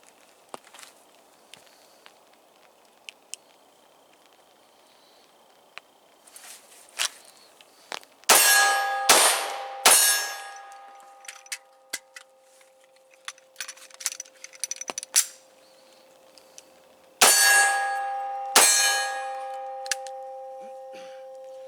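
Sharp metallic dings ring out from steel targets hit by bullets in low light, some in quick pairs, each leaving a sustained ringing tone, amid scattered clicks and distant pops.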